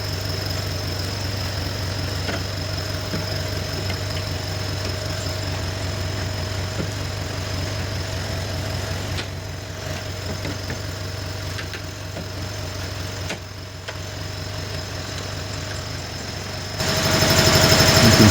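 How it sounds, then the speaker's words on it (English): A grinder runs against the rusted sheet metal of a car door shell, a steady loud rattling drone with a constant tone that dips briefly mid-way and swells louder at the end. "I'm going to grind those two down."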